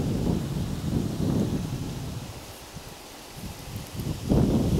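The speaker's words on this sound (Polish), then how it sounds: "jaki grzmot" Deep thunder rumbles and rolls in a broad low wash, swelling near the start, easing in the middle and surging again at the end, with no talk.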